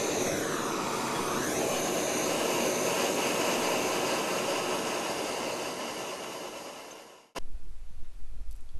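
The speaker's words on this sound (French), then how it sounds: "chauffer au chalumeau pour décalaminer" Blowtorch heating the piston rings of a disassembled super Isodyne engine to burn off carbon, a steady close roaring hiss that fades near the end and cuts off sharply, followed by faint low rumbles.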